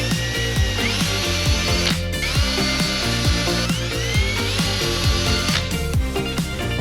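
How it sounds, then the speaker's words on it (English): A high-pitched power drill whirs steadily while pre-drilling holes, rising in pitch as it spins up twice, loud and close, with no talking. "I'm gonna pre-drill a couple holes, screw this in."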